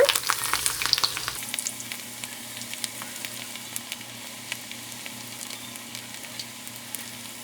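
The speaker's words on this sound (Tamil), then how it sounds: "இங்கே எண்ணெய் சூடாயிருச்சுங்க, பக்கோடா போட்டுடலாம்." Ragi onion pakoda batter dropped into hot oil, a loud burst of crackling frying that settles into a steady, fainter sizzle with scattered pops; no one speaks.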